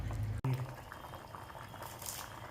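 Tamarind pumpkin curry bubbling in a pot, a steady close simmer with soft popping and liquid burbling, broken by a brief clatter near the start.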